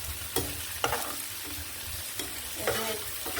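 Onion frying in a pan: a steady close sizzle with repeated spatula taps and scrapes every half second or so, no voices.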